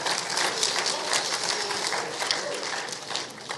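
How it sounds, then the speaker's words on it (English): An audience at a leadership symposium breaks into steady, dense applause that fills the room at fairly close range and stays even throughout. "Round of applause."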